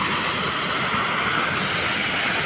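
Water overflows from a tank weir in a loud, steady, broadband rush that stays constant and dense throughout, with no voices.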